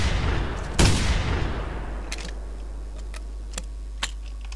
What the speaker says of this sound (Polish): Spróbujemy oddać takie dwa szybkie strzały.